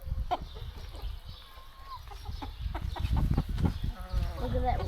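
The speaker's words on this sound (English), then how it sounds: "All of our chickens are really great mums." Backyard chickens, hens raising chicks, cluck and chatter close by over steady outdoor noise, with some soft bird calls mixed in.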